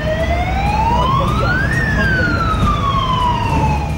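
Fire engine sirens wail loud and close at a fire at the National Museum of Natural History building in Delhi, the tone sweeping up then sliding back down over steady traffic rumble.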